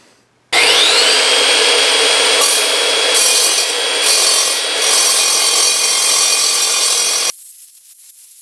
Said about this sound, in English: I'm just gonna sand the end of this consistently by spinning this on a belt sander